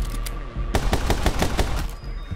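Gunshots from the video game My Friend Pedro crack in a rapid string of sharp, loud reports, one after another with brief gaps, and no one speaks over them.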